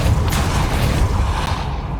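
A Depulso spell cast in the video game Hogwarts Legacy, a loud dense whooshing rumble with a faint creaking texture that sustains steadily for about two seconds, alone without speech.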